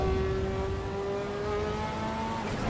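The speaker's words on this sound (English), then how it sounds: "The sound of this Ferrari, man" Ferrari race car engine revving on a track, a loud, steady high-pitched whine with rising harmonics held throughout, close and alone with no talk.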